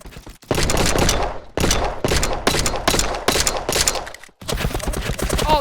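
Bursts of rapid gunfire in a shooter video game, loud and dense, broken by short gaps between volleys.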